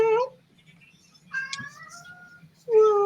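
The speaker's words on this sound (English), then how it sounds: "Very talkative kitty tonight." A pet cat meows indoors at night, two or three clear drawn-out calls with pauses between, close and fairly loud against a quiet background.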